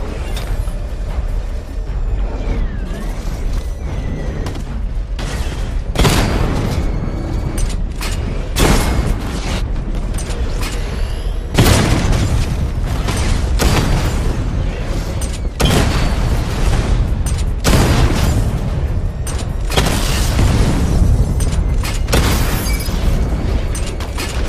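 Batmobile missile barrage in the video game Batman: Arkham Knight, a loud sustained stretch of rumbling booms and explosive bursts that keep coming in dense overlapping waves, with mechanical clatter between blasts and no talk.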